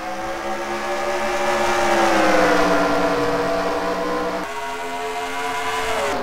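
Race cars in a racing video game lap Dover, a steady, loud engine drone with harmonic whine that rises and falls continuously, with no talk over it.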